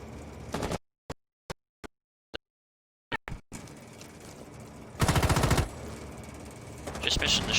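Gunfire in an esports shooter match between Legion eSports and Prodigy: a few sharp single shots separated by dead silence, then a loud sustained automatic burst and more firing amid game noise.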